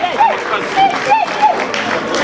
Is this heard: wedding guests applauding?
yes